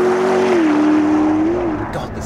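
A McLaren P1 engine drones steadily while driving on a public road, loud and close, with a near-constant pitch that dips slightly before easing off.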